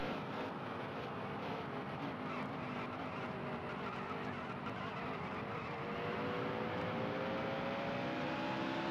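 Race car engine in a dirt-to-Daytona racing video game, a loud continuous drone with steady rising harmonic tones as it revs through the run, with no talk.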